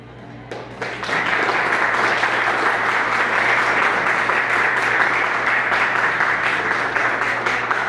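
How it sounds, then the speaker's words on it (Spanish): Sustained audience applause at a school academic debate between IE San Pedro Claver and IE San José Obrero, rising after a brief quiet start into dense, steady clapping that fills the room for the rest of the clip. "le pido al público que por favor maneje los aplausos con modernidad"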